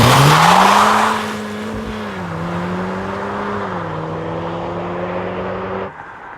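Launch of a modified Volkswagen Golf R with turbos, a loud rising engine roar at the start that settles into a sustained droning note with shifting pitch, close and continuous before cutting off near the end.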